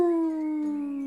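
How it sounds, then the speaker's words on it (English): A single drawn-out wolf howl, loud and close, holding a steady tone that sags slightly in pitch before a second voice joins lower underneath, heard alone with no talking. "We hear a howl."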